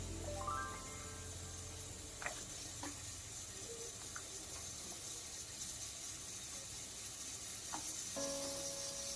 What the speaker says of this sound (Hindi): साइड में हमारी दाल भी बन रही है, उबल रही है कुकर में।